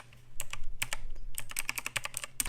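Rapid clicky keystrokes on a Logitech G Pro X mechanical keyboard fitted with GX Blue clicky switches, sharp close-up clacks in bursts with short pauses, no voices.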